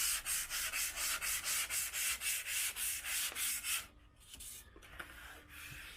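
Dry sanding the car's paint with 220 grit sandpaper, a steady run of rhythmic back-and-forth rasping strokes, close and loud, that stops partway and gives way to quieter handling noises.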